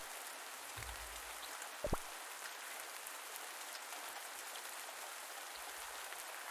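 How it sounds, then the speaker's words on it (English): Steady soft rain patter falls in a farming simulation game, a constant hiss throughout with one brief brighter droplet-like tick near the start and no voices. "I'm so glad I had rain today though."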